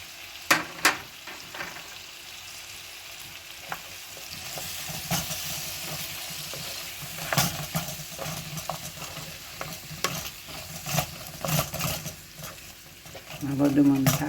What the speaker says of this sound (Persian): موادمون تفت میدیم یه مقدار، نه خیلی دیگه سرخ بشه